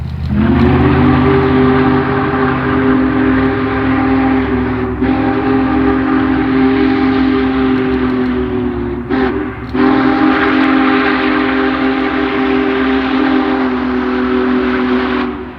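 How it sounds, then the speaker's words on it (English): A deep, loud steam locomotive whistle blows steadily for several seconds, breaks briefly, then sounds again at length, with no voices. "the best moment is the sound of that deep-throated whistle"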